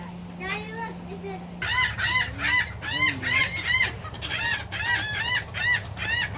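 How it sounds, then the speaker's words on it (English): Laughing gulls cackle at a wild bird sanctuary in the Florida Keys, a run of loud, rapid, laugh-like calls that starts after a short hum and repeats in quick bursts with no talk. "That cackling is done by, we believe, the laughing gulls."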